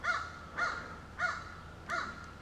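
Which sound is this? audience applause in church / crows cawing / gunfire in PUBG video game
crows cawing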